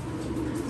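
A short, low coo from a racing pigeon, close and steady, lasting under a second.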